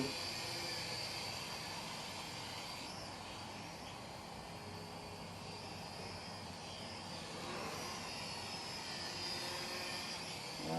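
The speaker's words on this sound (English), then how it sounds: "Nice little drone." A small, inexpensive quadcopter drone flies outdoors, giving a faint, steady high-pitched whirring buzz over broad airy noise, continuous and distant with no voices.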